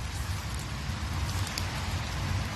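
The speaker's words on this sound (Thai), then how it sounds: "โอ้ฝนเทลงมา" Heavy rain pours down steadily in a forest while mushrooms are being foraged, a dense, even hiss of drops hitting leaves and ground, with no break.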